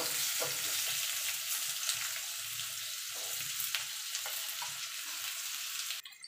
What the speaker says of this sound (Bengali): দেখুন বন্ধুরা আলু পেঁপেটা ভাজা হয়ে গেছে